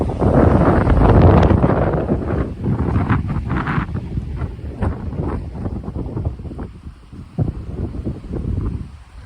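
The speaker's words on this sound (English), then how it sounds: "feel that wind." Strong wind buffeting the microphone on a Minnesota bison ranch, a loud rushing roar that swells and gusts steadily, close and without any talk.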